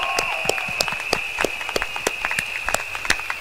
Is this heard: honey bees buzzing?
no